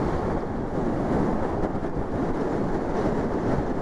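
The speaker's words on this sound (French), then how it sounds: "Oh la vache, le vent" Steady, heavy wind roar and rumble buffeting the microphone while driving, loud and constant, with no voices.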